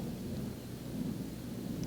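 Low thunder rumbles continuously before rain arrives, a faint, distant rolling roar under a soft hiss with no voices.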